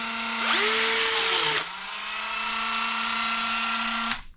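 A Dremel rotary tool with a rougher grinding wheel chamfers a small differential part for an HB Racing E819RS RC car, whining steadily at high pitch with a louder loaded grinding burst early, then running on alone before spinning down.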